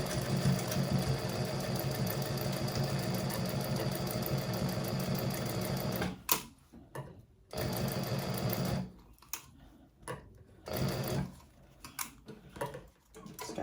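A sewing machine bastes a handbag lining about an eighth of an inch from the edge, running in a steady whirring burst for six seconds, then in shorter stop-start runs of stitching with brief pauses.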